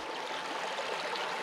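Creek water runs steadily over bedrock along a steep, rugged bank, a constant close rushing babble with no other sounds.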